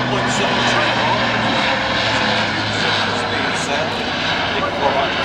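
An Airbus A400M turboprop military transport roars loudly overhead during a flying display at the Farnborough Air Show, a steady broadband engine and propeller drone filling the whole clip, with a voice talking underneath.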